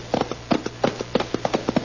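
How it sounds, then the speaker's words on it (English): Horses' hooves clip-clop along a rutted, dirty frontier-town main street in an old-time radio drama, a brisk, close, rhythmic run of sharp knocks with no voices. "Cherokee and I were talking it over as our horses slowed up and we hit War Dance's rutted and dirty main street"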